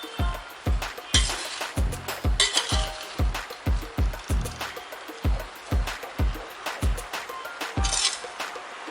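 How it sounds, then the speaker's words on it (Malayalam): Aviyal vegetables and tomato are stirred in a cooking pot, a metal spoon clinking against the pot in a steady rhythm of about two scrapes per second, with faint sizzling underneath. "നന്നായി ഇളക്കി യോജിപ്പിച്ച് നമുക്ക് കുറച്ചുകൂടെ നന്നായി വേവിച്ചെടുക്കണം"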